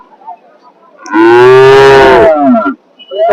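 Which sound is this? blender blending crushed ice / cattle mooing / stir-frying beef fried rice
cattle mooing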